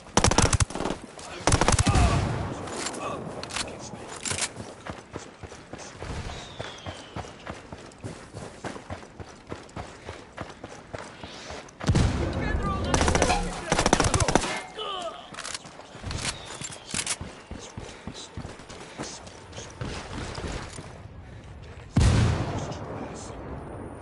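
Gunshots in the Wild Lands video game: loud bursts of automatic fire separated by quieter stretches with footstep-like thuds, with occasional voices.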